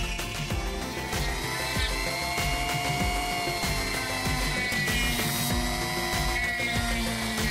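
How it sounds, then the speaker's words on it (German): Small power drill boring holes into cured UV resin in-ear monitor shells, a continuous whirring grind with rapid ratcheting chatter, close and steady throughout. "Nachdem die Gehäuse ausgehärtet sind, bohrt man die Löcher für die Steckerbuchsen und Schallschläuche."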